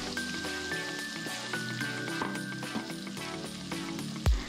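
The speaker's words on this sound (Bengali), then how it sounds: "আর এখানে আমি তেজপাতা, শুকনো লঙ্কা দিয়ে পেঁয়াজটাকে ভাজতে দিয়ে দিই।" Onion fries in a little oil with bay leaf and dried chilli, a steady close sizzle with faint crackles and a soft knock at the end.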